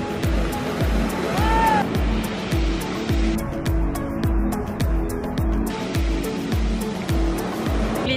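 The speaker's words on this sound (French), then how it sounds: "La mer est chaude, mais en revanche elle est violente." Rough, violent sea waves breaking on pebbles and slippery rocks on Capri, a repeating roar of surf with rhythmic crashes and rattling stones, loud and close, with no talk.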